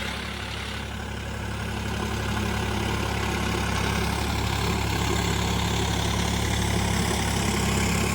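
Sonalika RX47 4WD tractor engine running steadily in a potato field, a loud continuous low diesel rumble and drone holding the same steady level throughout, with no talk.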